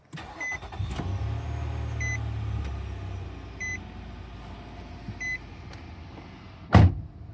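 High-mileage Nissan Murano with the VQ35DE V6 cranking and catching, then settling into a low idle, with a few chime beeps from the dash and a loud thump near the end; no talking.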